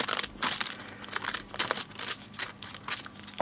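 A small plastic mail packet is torn and opened by hand, giving a close, quiet run of crinkling and tearing bursts in an uneven rhythm, with no one speaking.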